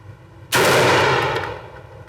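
A Mossberg 940 Pro shotgun fires a single low recoil Federal shell at 25 yards, one loud sharp blast that cuts in abruptly after near-quiet and rings out with a long decaying tail, no talking.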